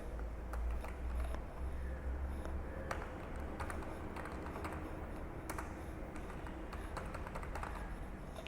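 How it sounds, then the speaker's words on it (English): Steady, quiet clicking of keys on a computer keyboard as text is typed, irregular taps continuing throughout with no speech. "and I am typing the text"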